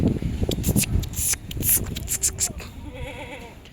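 Shuffling and rustling noises give way to a wavering bleat from a Kathiawadi goat kid near the end, fairly close.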